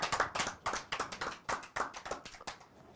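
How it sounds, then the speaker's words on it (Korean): A small audience at a Korean speech program claps in distinct, rhythmic bursts, close and crisp, with brief gaps between each group of claps. "큰 박수 한번 주세요."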